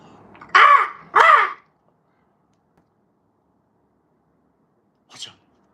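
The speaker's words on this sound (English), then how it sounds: "There's a bird." Two loud harsh caws in quick succession from a nearby bird, probably a crow, outdoors near a trailer park, followed after a pause by one fainter short call.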